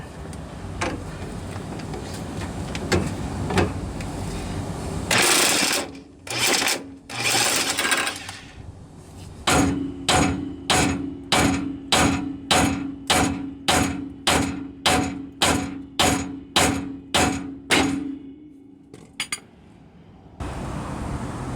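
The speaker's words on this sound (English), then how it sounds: "I'm going to use my impact to get this nut off because it's pretty tight." An impact wrench fires in rapid bursts to loosen a tight tie rod nut on a 1997–2004 Ford F-150, first a few long rattling runs, then a rhythmic series of about a dozen short, loud hammering pulses up close.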